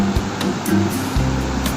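Big waves break and run up the shore at Mutiara beach around sunset, a close, steady rushing wash of surf with a low droning hum beneath it.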